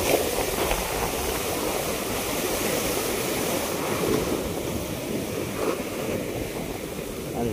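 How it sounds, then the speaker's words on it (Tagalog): Steady, heavy wash of rain and surf roaring continuously, a dense broadband rush with no pauses and no voices. "Lakas ng ulan at ng alon."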